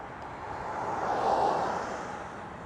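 An EasyJet airliner taxis at Schiphol after vacating the runway, its engines a faint, steady distant rumble that swells slightly and fades, with no voices over it.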